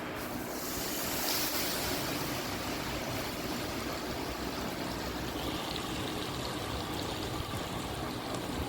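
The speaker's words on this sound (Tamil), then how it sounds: "இந்த சூட்டோடவே எடுத்துன்னு போய் அந்த தொக்கில் ஊற்றிடணுங்க" Hot oil tempering poured into mango thokku, a steady broadband hiss and sizzle like rushing water that holds at an even loudness throughout, with no voices.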